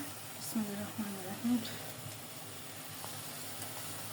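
Raw hilsa fish going into frying coconut paste in a pan, giving a soft steady sizzle and hiss with a few light knocks, while a person talks over it.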